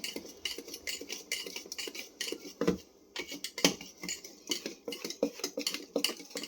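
Vanilla blueberry sponge cake batter is beaten in a bowl: quick, rhythmic clinks and taps of utensil against bowl, close and fairly quiet, with brief pauses.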